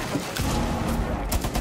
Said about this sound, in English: Oh, they're shooting right behind you.